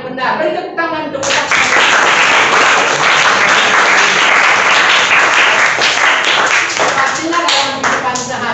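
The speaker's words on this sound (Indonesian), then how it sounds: "Beri tepuk tangan untuk" Students in a classroom break into loud, dense applause after a correct answer, the clapping sustained for several seconds close by, with a voice briefly heard before it starts.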